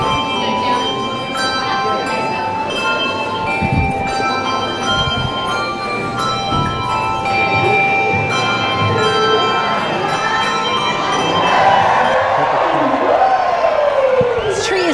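Bells ring out at an outdoor holiday tree lighting for a 40-foot tree, with steady tonal peals over a busy crowd murmur, some cheering and voices throughout.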